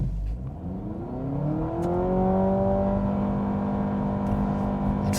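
A 2025 Honda Civic Sport Touring Hybrid pulls away hard from a brake-torque launch, its engine note climbing and then holding a steady, loud droning whine as the car accelerates, with no talk.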